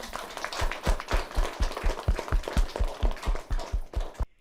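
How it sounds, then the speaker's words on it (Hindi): Rhythmic clapping from a studio audience, steady even beats at a moderate tempo, fairly quiet and without talk. "आप सब खुद के लिए एक ज़ोरदार ताली बजा दीजिए।"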